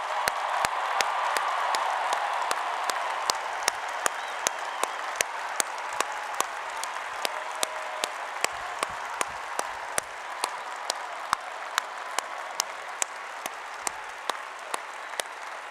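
Sustained applause from a large commencement crowd in a historic university stadium at UW–Madison, honoring first-generation college graduates; steady broad clapping with sharp individual claps standing out, continuous and loud throughout, no talking.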